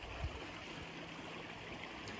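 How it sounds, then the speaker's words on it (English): A tiny creek in the Dandenong Ranges trickles and gurgles softly, a faint, steady close flow with no voices. "I've got this tiny little creek here. You can hear it flowing."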